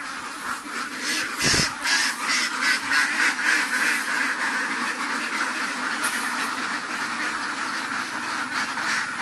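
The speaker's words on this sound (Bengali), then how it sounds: "হাঁসগুলো" Ducks quack loudly and often at close range in a busy, overlapping chorus, with a few sharp calls standing out over the outdoor background.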